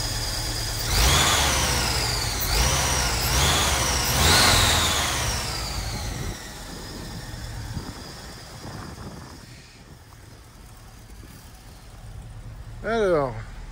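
A 1990 Volkswagen T3 Syncro Westfalia camper van engine cranks and catches, revving in a few surges before settling into a steady, fairly quiet idle, with a faint voice near the end.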